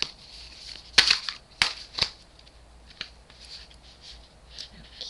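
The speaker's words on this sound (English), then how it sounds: "As I shuffle the deck" Oracle tarot cards shuffled by hand at close range, several crisp riffling snaps and flicks spaced through the stretch over a faint steady background, with no talking.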